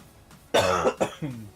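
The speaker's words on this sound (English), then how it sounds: "Sorry, I forgot to mute for that cough." A single short cough of three or four close, harsh bursts, near and fairly loud over a quiet background.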